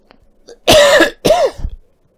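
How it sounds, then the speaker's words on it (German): Two loud, harsh coughs close to the microphone, a short gap between them, followed by a faint throat sound and then quiet. "Jetzt habe ich ein Kratzen im Hals, ich muss husten."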